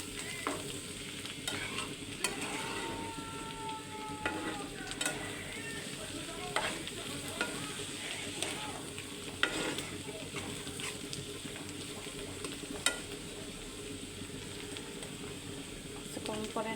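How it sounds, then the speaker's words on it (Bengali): A bottle gourd stir-fry with a generous handful of coriander leaves is stirred in a pan, a low steady sizzle under repeated scraping strokes of the spoon that continues evenly throughout. "দিয়ে একটু নাড়াচাড়া করে দেবো"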